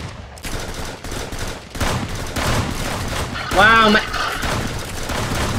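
Gunfire in the Arsenal video game: a burst of shots, including an accidental double shot, sounding repeatedly under the player's steady talking, with a louder cluster near the end.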